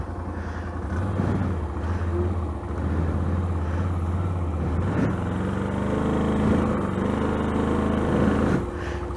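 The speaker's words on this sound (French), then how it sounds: "On va passer en 4 roues motrices." A vehicle switched into four-wheel drive grinds along on slippery ground, its engine droning steadily and loudly throughout, with no talk over it.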